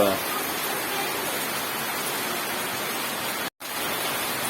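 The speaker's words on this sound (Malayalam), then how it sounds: "ഉച്ചക്ക് ബെസ്റ്റ് മഴ എന്ന് പറഞ്ഞാൽ ബെസ്റ്റ് മഴ, ഗംഭീര മഴ." Heavy midday rain pours in a dense, even roar of broadband hiss that cuts out for a moment near the end.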